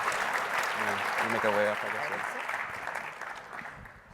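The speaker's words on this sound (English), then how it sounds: "So give it a round of applause for our esteemed panel." Applause from a conference audience for a STEM education panel at a space station research conference, fairly faint and fading, with someone talking over it.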